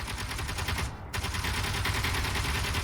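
A turret in the Space Engineers video game fires rapid, steady machine-gun bursts, loud and close, with one brief pause near the middle before the rattle resumes.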